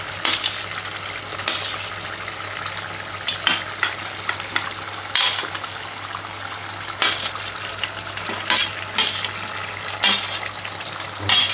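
Cooked chicken and curry leaves being stirred in a hot pan for a Pakistani-style chicken dish, with a steady sizzle broken by repeated scraping strokes of the spoon at an even rhythm, close up and alone.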